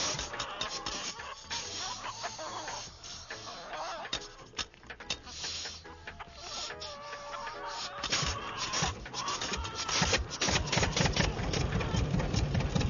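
A tractor engine runs in a garden setting, a steady mechanical chugging hum that grows louder and rougher toward the end, with no talking.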